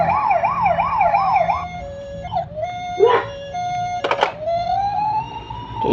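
A black toy model police car's electronic siren wails in a quick yelp, then breaks into short tones and clicks before a rising whine, all over a steady low hum.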